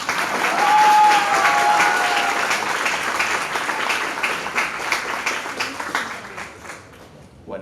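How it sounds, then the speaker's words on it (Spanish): An audience at a literature and family talk with author Peter Rock applauds, loud clapping peaking early then gradually thinning and fading over several seconds, with faint voices mixed in. "Aplausos, por favor"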